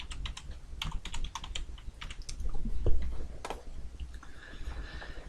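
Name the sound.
typing text on a computer keyboard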